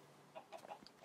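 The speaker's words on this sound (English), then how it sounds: "Stupid chicken." Chicken clucking in the video game Minecraft, a few soft, faint clucks in quick succession with no talk over them.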